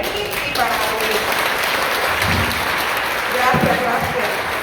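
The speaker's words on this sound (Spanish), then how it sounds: "Les voy a pedir un fuerte aplauso para Miguel, para Ernie y para Luis." Steady applause from a crowd at a 50th anniversary ceremony for the discovery of the Tibes Indigenous Ceremonial Center, loud and continuous throughout, with a brief swell near the end.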